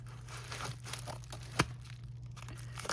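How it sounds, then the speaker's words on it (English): Plastic packaging on a bead box is torn and cut open in soft crinkling and rustling over a low steady hum. One brief sharper snap cuts through the middle. "So I'm going to go ahead and rip into this package, being careful not to tear up my sheet"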